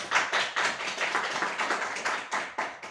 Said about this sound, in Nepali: एकपल्ट ताली बजाइदिनु